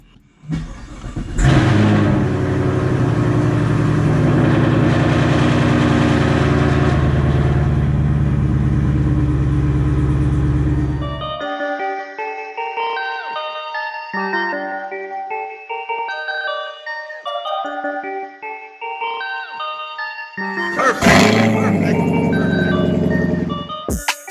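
A 2021 Chevrolet Camaro SS cold starts with a loud, sustained engine roar for several seconds, then drops away as melodic chime-like tones play, before another brief loud rev near the end.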